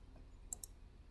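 Two quick, sharp computer mouse clicks in close succession, faint and close-up against near silence.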